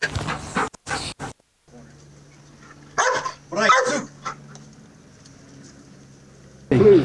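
A dog barks in a few sharp bursts, close and loud, between stretches of quiet and a low hum, with people's voices nearby.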